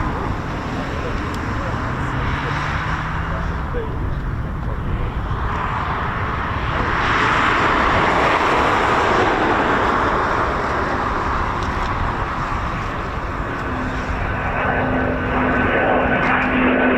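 A pair of Eurofighter Typhoon FGR4 jets returning to RAF Coningsby produce a steady, loud engine roar that swells midway, with someone talking over the noise throughout.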